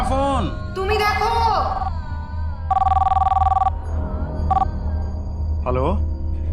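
A telephone rings in short electronic bursts amid background music and voices, with tonal sweeps before and after the ring.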